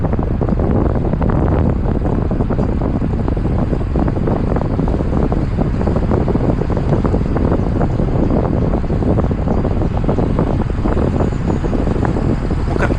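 A side crosswind buffets the microphone during a 200 km road cycling brevet, a loud, steady, low rumbling roar with constant gusty flutter throughout and no voices.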